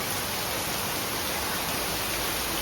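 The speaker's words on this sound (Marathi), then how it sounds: "पाऊस काही जायचं मांग ना, नुसतं पडतं धो धो धो धो." Heavy rain pours down in a dense, unbroken roar that fills the whole stretch at steady loudness, close and without pauses or voices.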